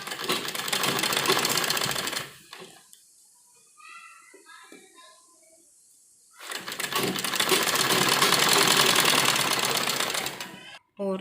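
A sewing machine stitches a pleated frock in two loud, steady whirring runs, with a quiet pause between them where someone talks softly.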